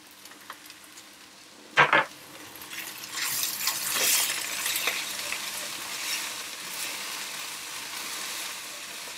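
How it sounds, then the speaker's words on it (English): Garlic and herbs stirred through a pan while cooking for a shepainter's pie, heard as a soft steady sizzle with a couple of sharp utensil scrapes near the start. "I'm going to add in my garlic and my herbs as well and stir those through."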